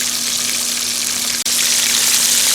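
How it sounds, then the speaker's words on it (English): Steady loud sizzling and crackling of food frying in hot oil on a SilverFire Hunter biomass stove, close up and continuous, with a brief break partway through. "So anyway, that's frying up nice."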